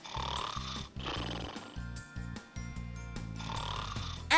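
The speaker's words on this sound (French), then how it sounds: "Un ronflement." Snoring sounds repeat as rhythmic breathy rasps over a steady musical backing, moderately loud and close, with no talking.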